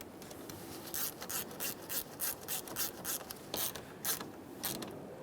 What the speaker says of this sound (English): tighten our 10mm mounting nut.